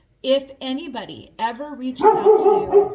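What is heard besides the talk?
dog barking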